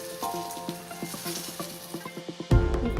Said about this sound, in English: We've just seared the 2 batches of carrots